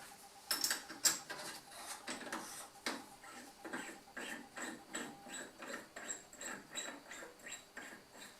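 Metal clicks and ratcheting taps as a Banggood 5C to ER32 collet adapter is tightened, a steady run of short repeated clicks at close range with no talking.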